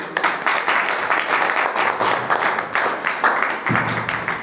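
A church congregation claps together in praise, a steady wash of many hands sustained and fairly loud across the whole moment, with a brief low rumble near the end.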